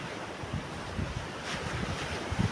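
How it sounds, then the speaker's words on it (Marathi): High-tide waves wash onto a rocky shore in a continuous, fairly loud surf roar mixed with wind rumble. There is no talk. "भरती चालू आहे ना त्याच्यामुळे पाणी किनाऱ्यावर येत आहे"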